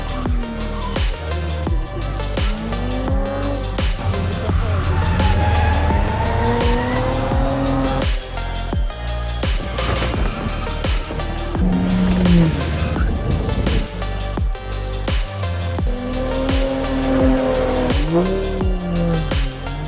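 A drift car skids with loud, wavering tire squeal over a roaring, revving engine, sustained and close with repeated sharp bursts.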